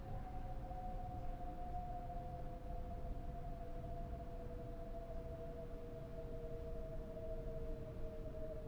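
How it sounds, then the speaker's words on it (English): A train horn in the Train Sim World 6 video game, heard from inside the cab, holds one long, steady two-tone blast under a low rumble, with no talk. "it's still got the same type of horn inside the train"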